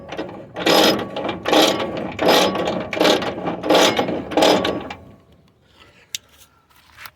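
An engine, a CN 40 A, is turned over by hand with vise grips: a mechanical ratcheting, grinding churn repeats in about six strong, rhythmic strokes, then stops, leaving faint clicks and a sharp tick near the end.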